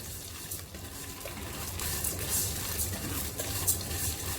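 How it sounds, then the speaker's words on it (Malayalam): Unroasted vermicelli is stirred and dry-roasted in a pan for carrot semiya payasam, making a continuous close scraping and rustling with light sizzle and no talking. "ഇത് വറുക്കാത്ത സേമിയാണ്, അപ്പോൾ നന്നായി വറുത്തെടുക്കുക."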